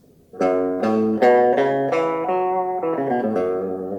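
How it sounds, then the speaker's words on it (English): An electric guitar plays a minor pentatonic scale, single notes stepping upward in a steady rhythm, clean and clear with no voices. "the minor pentatonic is a 5-note scale."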